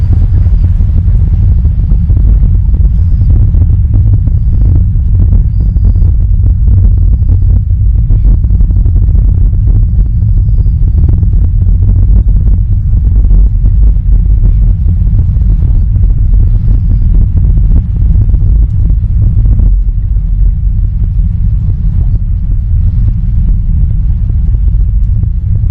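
Far-off SpaceX rocket launch, carrying as a deep, steady rumble with a low roar and some wind buffeting that holds for the whole stretch without easing; nobody talks.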